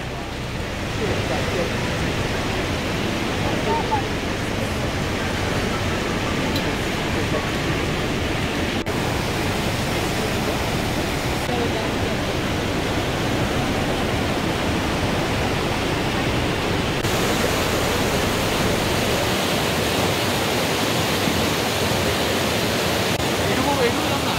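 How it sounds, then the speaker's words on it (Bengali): A small waterfall in Johnston Canyon, Canada, pours with a steady, dense rushing roar that stays even and close for the whole stretch, with no clear voices. "এই ঝর্ণাটা তো একদমই ছোট।"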